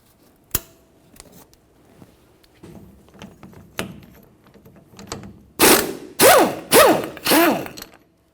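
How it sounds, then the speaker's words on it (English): A 22mm wrench loosening the jam nut on an inner tie rod of a 1999-2006 Chevrolet Silverado steering rack, with scattered metallic clicks and knocks, then four loud ratcheting bursts close by. "we're going to use a 22mm to remove that jam nut"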